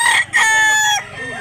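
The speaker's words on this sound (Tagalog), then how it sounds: "Gandang manok." A rooster for sale at a Mantalungon, Barili, Cebu chicken market crows once, loud and close, with a brief break early in the call and a drawn-out, wavering tail.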